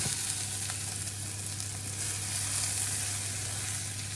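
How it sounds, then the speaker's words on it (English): Peppers for a vegan Galician chickpea stew sizzle steadily in a pan, a constant close frying hiss with no pauses. "we let it cook for like 5-10 minutes until the peppers are softish"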